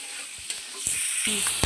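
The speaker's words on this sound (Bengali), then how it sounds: "চিংড়ি মাছগুলো দেখো ঠিক এইভাবে ভাজা হয়ে গেছে" Shelled prawns fry in a hot pan with a steady close sizzle, broken by a few sharp scraping knocks as they are stirred.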